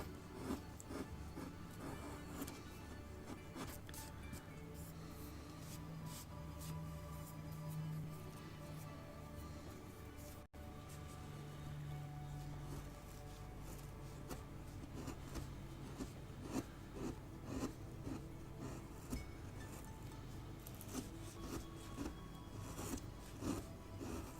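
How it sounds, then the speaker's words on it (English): A knife slicing along the grain of a wood owl carving, giving soft repeated scraping and rasping strokes, close but faint, with no talking. "Got to be careful to cut the wood, not force it to split apart."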